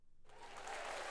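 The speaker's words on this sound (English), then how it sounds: "that's why the applause is necessary for sure" Applause from a podcast studio audience swells up after a brief quiet start, a steady wash of clapping that grows slightly louder and continues through to the end.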